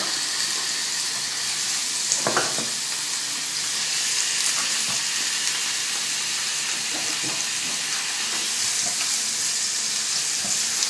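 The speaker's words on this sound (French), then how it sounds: "Et on va y mettre à chauffer les petits bouts d'ananas." Small pineapple pieces fry in hot peanut or sunflower oil for chicken with pineapple, giving a steady, close sizzling hiss throughout with a few faint clicks, and no talking.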